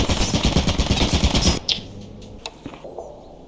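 Automatic turret fire in a video game, a dense rapid rattle of shots for about a second and a half that cuts off abruptly, followed by a few scattered faint clicks and thuds.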